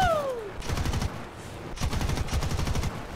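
A 20mm aircraft cannon firing in the War Thunder video game, two loud bursts of rapid, thumping automatic fire over engine drone, with a falling whine at the start.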